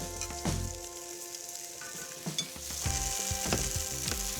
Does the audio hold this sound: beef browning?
yes